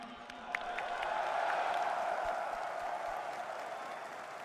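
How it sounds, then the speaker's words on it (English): A stadium crowd roars and applauds at the PGL Major Stockholm 2021 esports grand final between NAVI and G2, a dense, steady wall of cheering and clapping that holds loud throughout. "An electric atmosphere in the stadium"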